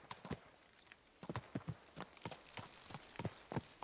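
Horse hooves clip-clop in the video game Kingdom Come: Deliverance 2, a quiet, steady walking rhythm of paired thuds that repeats without pause.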